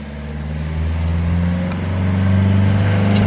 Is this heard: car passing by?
yes